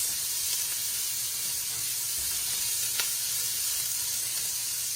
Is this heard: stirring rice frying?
yes